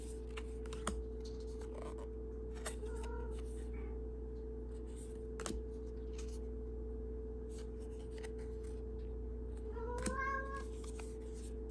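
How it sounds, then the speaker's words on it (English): A female house cat meows a few times indoors, short rising calls around one, three and ten seconds over a steady electrical hum, with light scratching or tapping in between. "That would be my cat, who has decided that she wants to join in on the video."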